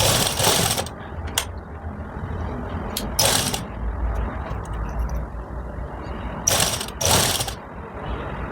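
Sewing machine stitching the pleats of a ready-to-wear belt saree, running in short loud bursts of fast whirring with pauses between, close up and with no talking.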